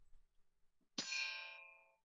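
A single gong strike rings out on a livestream. It hits sharply and leaves a bright metallic tone that fades over about a second in an otherwise quiet room.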